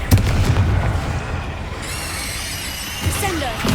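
Casting the Confringo explosive spell in Hogwarts Legacy sets off booming blasts and crackling impacts up close, then a rising magical whoosh, with a shout over the effects.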